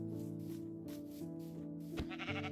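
Sheep in a video game bleating with a quavering, pulsing call that carries on for a couple of seconds, soft and heard alone.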